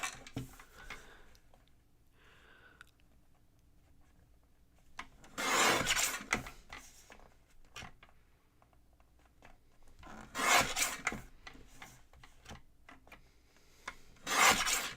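Rasping, rubbing scrapes from trimming a paper craft piece, heard as three louder bursts of a few seconds each separated by quiet stretches with faint ticking handling noises.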